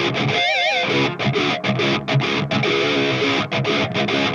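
Electric guitars through an Audio-Assault amp simulator plug-in, a loud, dense, distorted riff with choppy rhythmic breaks and a brief wavering vibrato lead phrase near the start, heard alone without talk.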